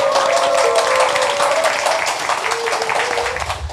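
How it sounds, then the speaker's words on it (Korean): Studio audience applause opens a Korean current-affairs talk show, a steady, dense wash of clapping that runs the whole stretch with sustained tones layered over it. "여러분의 힘찬 박수와 함께 시작하겠습니다"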